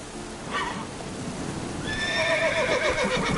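A horse in the video game The Witcher 3 gives a loud whinny over the clip-clop of hooves, with a shorter snort-like call before it.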